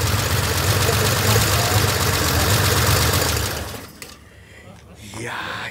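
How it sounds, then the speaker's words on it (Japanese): A loud, rumbling Nissan L-series engine in a classic Skyline GT-R idles with a steady throaty roar for several seconds, then cuts off, leaving quieter room noise. "非常に獰猛なエンジンでしたね"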